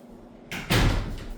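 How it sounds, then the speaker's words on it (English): An indoor door is pushed shut with a single solid thud, followed by a brief rattle as it settles, close by in a quiet room. "Shut my door in case the dogs go crazy."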